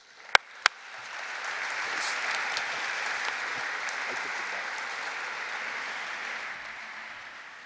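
Sustained audience applause fills a hall at a Columbia World Leaders Forum as the Prime Minister of Timor-Leste is welcomed, preceded by two sharp knocks, then swelling to a steady, even clapping that slowly fades.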